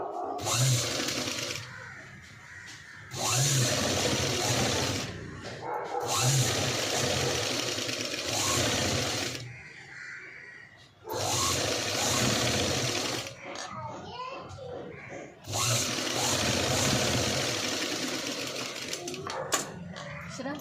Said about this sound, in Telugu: ఇలా నీట్గా పైపింగ్ మీద డబల్ స్టిచ్ అనేది వేసుకోవాలి